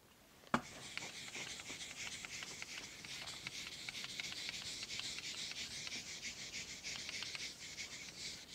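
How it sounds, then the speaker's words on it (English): Steady dry rubbing and scratchy strokes of an eraser or cloth wiping writing off a board, fairly close and continuous after a brief sharp knock at the start, with no talking. "Can I erase?"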